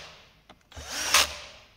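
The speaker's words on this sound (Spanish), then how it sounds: "ponemos el embrague al atornillador." A cordless power screwdriver with its clutch set drives self-tapping screws into the cover of a Husqvarna 136 chainsaw, a short close whirring burst that rises to a brief louder peak before trailing off.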